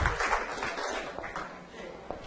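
A crowd applauds at a product presentation during a May 2016 rally event in Londrina, Paraná, with steady dense clapping that runs the whole time and stays fairly quiet. Light background voices mix in.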